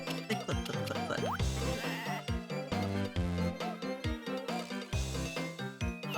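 Sheep bleating in the Harvest Moon DS farming game, several short repeated bleats over cheerful, looping background game music.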